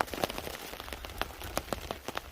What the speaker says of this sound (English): yes, it is Wales, and yes, it is tipping down with rain